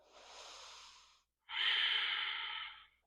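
Two slow, deep breaths taken during a pelvis alignment stretching class, a softer inhale followed after a short pause by a louder, longer breath, close and alone.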